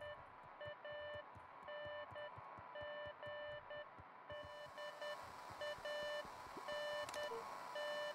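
Walkie-talkie in the Beacon Pines video game giving rapid, evenly spaced electronic beeps in short Morse-like bursts, faint and alone over a quiet background.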